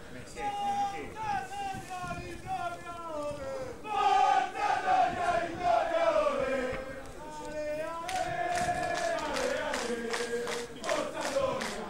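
Manfredonia Calcio supporters at a soccer match against Modugno sing loud, sustained, tuneful chants in unison, swelling and repeating throughout.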